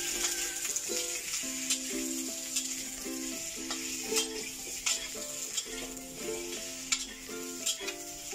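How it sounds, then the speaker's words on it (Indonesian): Radish stir-fried in a pan for a Hong Kong-style beef and radish dish: a steady sizzle with repeated scraping and clinking as the spatula stirs, close and moderately loud, with no talking. "tumis-tumis merata ya."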